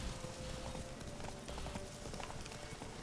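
Roach, the horse in The Witcher 3, gallops at a steady driving pace, with continuous rapid hoofbeats over a busy game background and a faint voice beneath.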